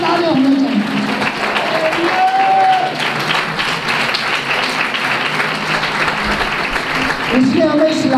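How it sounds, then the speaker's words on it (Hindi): Applause fills a church service, a steady continuous wash of clapping from the congregation that holds for the whole stretch, with voices calling out above it at the start and end. "उसके चर्च में तालियां होनी चाहिए"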